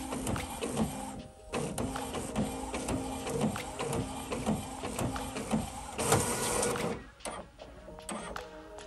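An Epson WorkForce 7710 printer feeding and printing an 11 by 17 page, a steady mechanical whir with rhythmic clicks and carriage passes, close and continuous, briefly dipping near the end.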